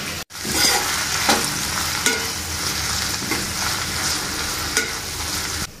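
Fresh mint leaves fry in a pan with a steady, close sizzle. A spatula stirs them with a few distinct scrapes and clicks, and there is no talking.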